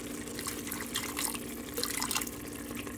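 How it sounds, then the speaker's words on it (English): Water pours into gravy in an Instant Pot pressure cooker, a soft continuous trickling and splashing that stays fairly quiet and steady for a few seconds, with a small clunk at the end. "I'm going to add a little bit of water."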